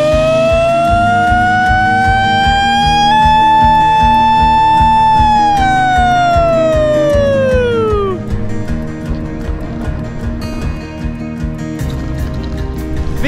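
At a cycling event, a person vocally imitates a siren in one long, loud wail that rises slowly, holds, then falls away, over a busy background of crowd noise.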